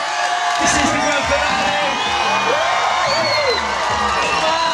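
A crowd at a live bike stunt show during the Animal Relentless Bike Tour at NASS cheers and whoops loudly and steadily for a rider, a dense roar of many voices with an announcer's speech mixed in.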